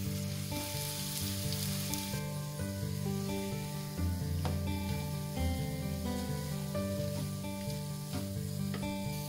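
Potato filling fries in a pan over medium heat for a bread roll snack, giving a steady, close sizzle with occasional stirring scrapes and clicks throughout, no voices.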